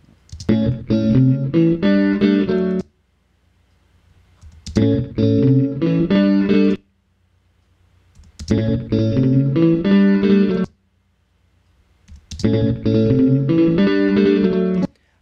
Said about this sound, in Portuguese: o que fica mais nítido para você é o eco, é o som que foi repetido